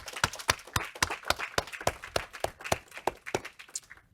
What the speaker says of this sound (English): If we could just have another round of applause for all 11 of them.